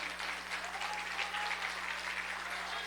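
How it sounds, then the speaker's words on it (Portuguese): A church congregation applauds steadily and energetically, dense clapping that holds at an even level from start to finish with no voices rising above it. "Você pode aplaudir o Senhor, aplauda com vontade."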